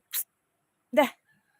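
A dog gives two short, soft yips or whimpers, separated by a pause, fairly quiet and close.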